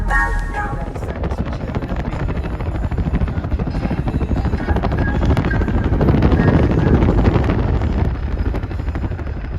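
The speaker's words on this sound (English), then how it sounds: "Sound like a helicopter, huh?" Helicopter heard during a road trip in New Mexico, a loud continuous rotor chop and engine roar swelling toward the middle, with a voice speaking faintly underneath.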